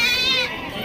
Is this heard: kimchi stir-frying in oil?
no